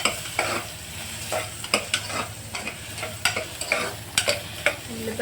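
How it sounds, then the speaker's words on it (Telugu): Onions fry in hot oil for a mutton curry, a low steady sizzle broken by repeated scraping stirs of a spoon against the pan, close and clear with no voices. "ఉల్లిపాయ బాగా వేగాలి,"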